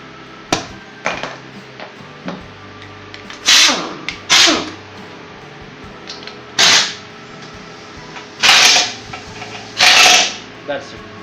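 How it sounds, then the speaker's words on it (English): Brake caliper bolts on a Royal Enfield motorcycle are tightened with a tool, giving several sharp, loud bursts and clicks spaced a second or two apart over a quiet background. "retight those caliper bolts"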